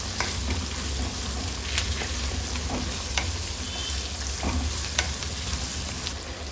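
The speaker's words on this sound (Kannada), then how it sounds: "ಎಣ್ಣೆಯಲ್ಲಿ ಒಂದು 5 ನಿಮಿಷ ಆದರೂ ಫ್ರೈ ಆಗಬೇಕಿದು." Capsicum frying in oil in a pan gives a steady, close sizzle, broken by scraping stirring strokes and occasional light taps, with no talking.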